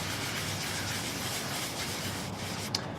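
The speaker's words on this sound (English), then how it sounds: "the sanding block is hitting all of the higher surface around it" Steady abrasive rubbing of a sanding block across a metal motorcycle fuel tank, continuous and close, with a brief sharper scrape near the end.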